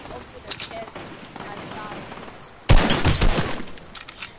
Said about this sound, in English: Oh, it's a pistol!